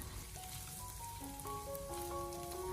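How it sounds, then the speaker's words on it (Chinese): Corn and carrots stir-fried over medium-low heat for egg fried rice, giving a steady soft sizzle with light spattering throughout, no voices. "这个时候开中小火给它不停的翻炒，将里面的所有食材炒至成熟。"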